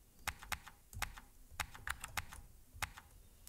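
Typing on a computer keyboard, a quick irregular run of crisp, close key clicks in short bursts against a quiet room, with no talk.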